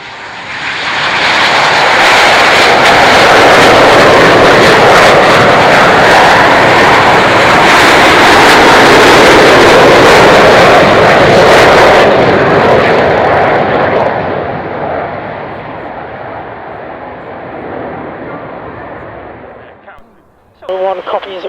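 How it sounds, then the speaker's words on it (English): An Avro Vulcan jet bomber takes off for a display at the Royal International Air Tattoo 2011, its engines building to a huge, crackling roar that holds loud for several seconds, then fades away before a closing voice. "The Avro Vulcan."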